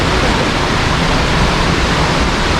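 Misol Ha waterfall in the Chiapas jungle makes a loud, steady, broadband roar of falling water that holds constant throughout, with no voices.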